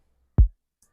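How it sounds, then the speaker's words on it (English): A single kick drum sample from FL Studio hits once, a deep, punchy thump that decays quickly into silence. "My kick sound like this."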